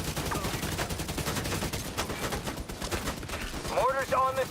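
Rapid gunfire from The Division video game crackles continuously in a dense volley of overlapping shots, with a short burst of game voice or radio chatter near the end.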